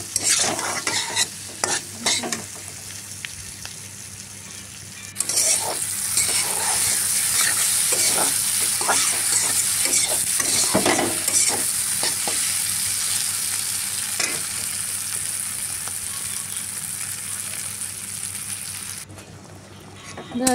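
Potatoes coated in turmeric, chili and cumin powder sizzling and being stirred in a pan, a loud continuous fry after they hit the oil, with scraping strokes and brief talk.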